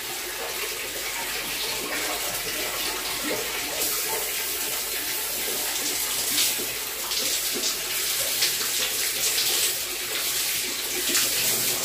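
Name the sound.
water running from five taps at once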